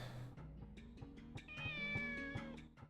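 A cat in the video game Shenmue meows in a sustained, wavering call over a backdrop of plucked, rhythmic game music.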